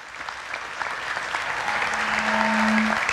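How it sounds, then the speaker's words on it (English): A crowd claps steadily, the applause building gradually and staying dense throughout, with a faint voice calling out briefly near the end. "So Rachel, let's give her a round of applause."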